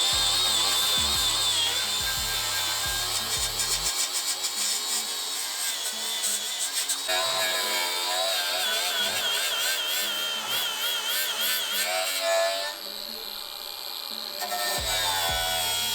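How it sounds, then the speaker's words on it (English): An angle grinder fitted with a wire wheel scrubs old panel bond off the frame of a BMW M5 F90, a harsh, high whine that holds loud and steady with shifting pitch as the wheel bites and eases. "grab the grinder with the wire wheel on and clean everything up really good"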